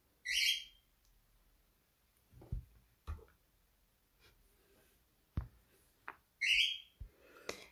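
Synthetic bird chirps from the mobile fishing game Fishing Clash, two short bright bursts near the start and end, with soft taps and clicks in between and no talking.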